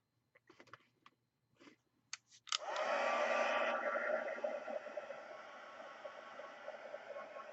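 A hair dryer blows steadily on a freshly painted art doll, starting abruptly after a few faint handling taps and then holding a loud, continuous rushing whoosh close by.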